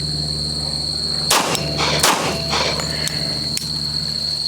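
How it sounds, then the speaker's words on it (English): Two sharp handgun shots ring out about a second apart, loud and close, over a steady electrical hum with faint clatter afterward. "stand here with my wrist straight and fire 2 shots"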